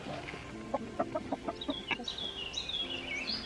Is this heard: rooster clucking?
yes